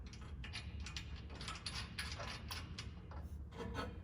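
A flange nut being spun and tightened onto a bolt while fitting a skid plate to a 5th-gen Toyota 4Runner, giving a steady run of close metallic clicks and ratcheting taps over a low background hum.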